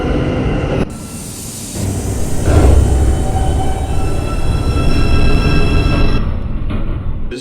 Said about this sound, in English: Is a train approaching the station.